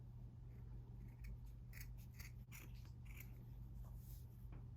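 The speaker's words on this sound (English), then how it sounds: "I'm just gonna cut right above the hemline" Scissors cutting through a shirt sleeve just above the hem, a quiet close-up series of crisp snips and fabric slices, several blade closures spread over a few seconds against a low background hum.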